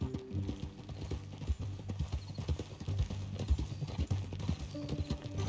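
Horse hooves clip-clopping on the ground in Red Dead Redemption 2, a steady rhythmic walking gait heard close by alongside faint background sounds, with no talk.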